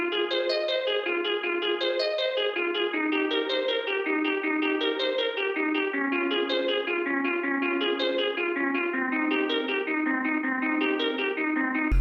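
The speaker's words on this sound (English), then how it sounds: "I created an ARP out of a guitar that sounds like this." A guitar arpeggio loop for a hip-hop beat repeats a steady rising and falling pattern of plucked notes with an effected, slightly reverberant tone, playing continuously at an even level throughout.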